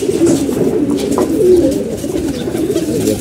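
Domestic pigeon cooing steadily and close by, a continuous low throaty burble running through the whole stretch with no talk over it.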